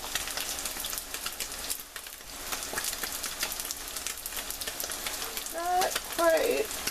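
Tofu fries in a pan with a constant close crackling sizzle like light rain, steady throughout, with faint speech near the end.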